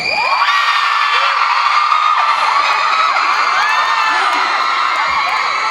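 A large crowd at an awards ceremony screams and cheers continuously, high-pitched shrieks and whoops layered into a loud, sustained roar with no pauses.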